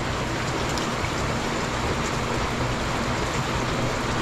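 Steady rain pours down on a farm, a dense, even hiss of drops on surfaces with no voices.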